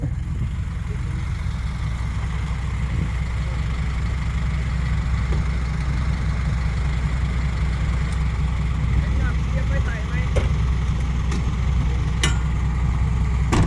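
A tractor engine runs under load while pulling, a steady low rumbling drone that holds evenly for the whole stretch, with faint voices in the background.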